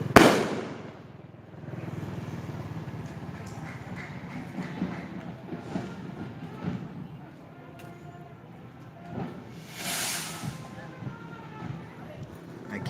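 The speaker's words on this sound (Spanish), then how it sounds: "Aunque le tenemos miedo a los voladores, pero aquí estamos, a los cohetes." Fireworks rockets (voladores, cohetes) pop and burst at a street procession, a few sharp blasts standing out over continuous crowd noise and voices talking nearby.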